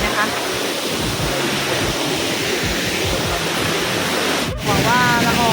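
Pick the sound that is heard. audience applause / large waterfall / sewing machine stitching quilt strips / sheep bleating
large waterfall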